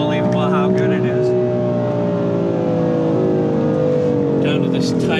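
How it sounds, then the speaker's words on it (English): A BMW M4 pulls hard up to speed, its engine note rising steadily and loud and close throughout, with a continuous layered drone of harmonics. "the car quickly gets up to speed"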